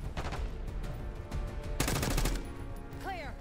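Gunfire in the video game Call of Duty Black Ops 6, a dense burst of rapid automatic shots over a busy loud game mix, with a sharper volley near the middle and a whooshing effect at the end.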